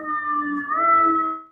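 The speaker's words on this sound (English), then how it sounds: "Sorry, again with the sirens." Wailing emergency vehicle siren from outside during a politics podcast, a sustained rising tonal howl heard fairly clearly for a moment with no talk over it.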